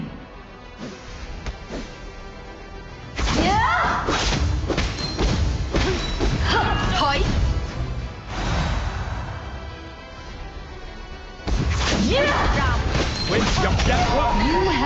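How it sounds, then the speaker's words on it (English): A tower being destroyed in a video game, with heavy crashing thuds and mechanical rumbling in loud bursts separated by quieter stretches, while a voice speaks over the action. "Your tower has been destroyed."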